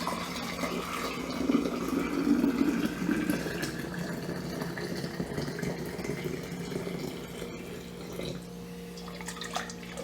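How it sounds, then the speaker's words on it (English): Brine trickles through a small funnel into jars, a soft continuous pour with light dripping that tapers off toward the end. "This is just a little funnel that I use when pouring into jars for safety's sake."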